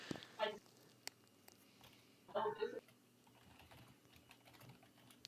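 Typing on a computer keyboard during an online multiplayer game session, heard as two short clattering bursts of keystrokes over a low background hum, with faint voices in the background.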